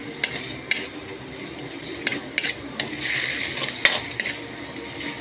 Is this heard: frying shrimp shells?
yes